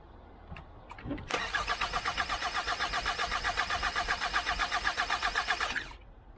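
The engine of a 2021 Hyundai Santa Fe cranks without starting, a rapid, steady, pulsing starter whir that runs for about four and a half seconds and then stops, preceded by a few faint clicks.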